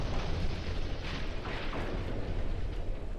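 A warship being destroyed in Ultimate Admiral Dreadnoughts, heard as a dense, continuous roar of explosions and booming rumble with some brighter bursts mid-way, loud and sustained without any talking.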